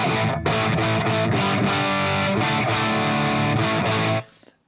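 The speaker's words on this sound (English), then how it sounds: "I normally switch to the boost of the amp," Electric guitar played through an amp's boost channel, a loud, dense distorted tone with continuous strummed chords for about four seconds, then an abrupt stop into brief decay.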